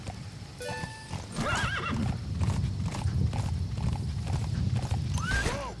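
Rapid hoofbeats of a galloping horse in Metal Gear Solid V: The Phantom Pain, over a low rumble, with a couple of loud neighs breaking through.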